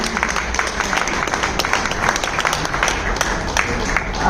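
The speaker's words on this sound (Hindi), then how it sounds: "जोरदार तालियां वर्मा जी के लिए" A crowd applauds a bhajan singer with loud, continuous clapping, and sharp individual claps stand out from the steady roar throughout.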